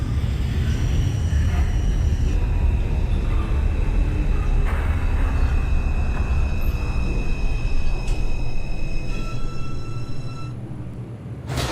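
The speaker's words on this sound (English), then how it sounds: "This is an Eastchester bound 5 local train." An NYC Subway R142 train on the 5 line, simulated in OpenBVE, rumbles steadily with a loud low-frequency roar, while tonal motor whines rise and hold over it the whole time, easing slightly near the end.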